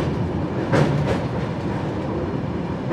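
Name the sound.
train crossing the Kolaghat bridge over the Rupnarayan river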